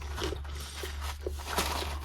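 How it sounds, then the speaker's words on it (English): Someone bites and chews crunchy dried pineapple pieces from a Polish field ration, giving a few short, close crisp crunches against a low steady hum. "They're crunchy, not bendy."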